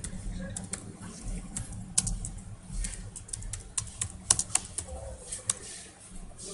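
Typing on a computer keyboard gives a steady patter of quick key clicks over a low hum, with speech over it.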